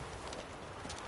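Hooves of Geralt's horse Roach in The Witcher 3: Wild Hunt, a quiet, steady clip-clop of a horse walking over a soft background.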